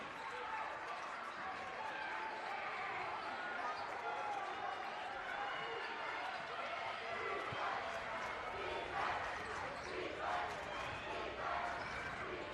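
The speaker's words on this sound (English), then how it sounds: "Just listen to the crowd here." Crowd at a boys high school basketball game in a gym, a loud continuous roar of cheering and shouting with sneaker noise, under an announcer's voice calling the play.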